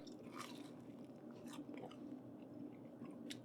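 Crunchy bites into a homemade copy of a Taco Bell Crunchwrap Supreme, with several close, sharp crackles spread across a few seconds, then quieter chewing, and no talking.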